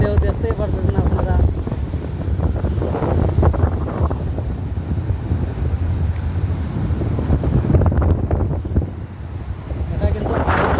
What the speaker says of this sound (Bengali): দেখতেই পারতেছেন আপনারা কত সুন্দর বড় বড় ঢেউ